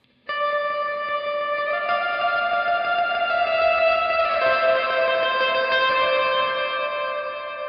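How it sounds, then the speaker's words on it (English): An electric guitar passes through an Arturia plate reverb modelled on a classic EMT unit, with the decay at its longest: a few sustained notes bloom into a thick, smooth wash that hangs on well past the attack, with no voices. "here is your decay time, which you can get pretty long"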